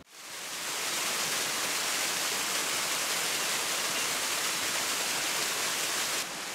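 A mountain stream cascades beside a hiking trail, fed by snowmelt, making a loud, steady, rushing hiss that swells in within the first second and then holds constant.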